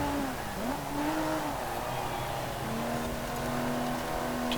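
Rear-wheel-drive car with over 300 horsepower racing in Forza Horizon 4, engine droning steadily with pitch rising and falling through gear changes, close and sustained.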